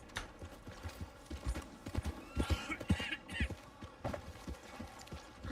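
Horse hooves clip-clop at a steady walking pace in Red Dead Redemption 2, joined by a short whinny, with faint mechanical clicks and someone talking now and then over the game sounds.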